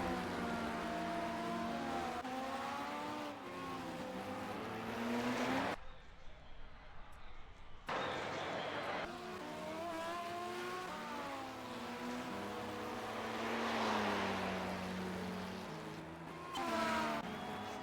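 Audi e-tron and TDI race cars in the racing video game Project CARS, with whining engines rising and falling through gear shifts. There is a brief muffled gap in the middle, and the sound returns loud and continuous.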